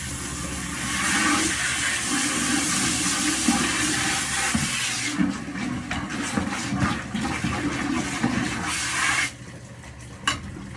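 Steady rushing, gurgling water is pumped into an iron-fouled well for several seconds, a broad churning wash that drops off abruptly near the end.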